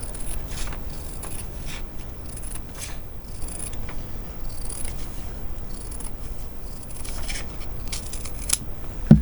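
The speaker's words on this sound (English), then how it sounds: "But you just want to cut around your circle." Scissors snip through fabric as a circle is cut for a pillow, a steady series of close, soft crisp cuts and rustles repeating throughout.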